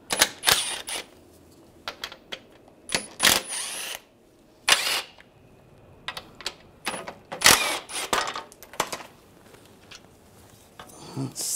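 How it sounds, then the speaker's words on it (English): A socket wrench with an 8mm socket backs out the four radiator screws on a 2013-2016 Dodge Dart 2.4L, giving short clicking and ratcheting bursts separated by quiet gaps, close and fairly crisp. "I'm gonna take the four screws out, use an 8mm socket."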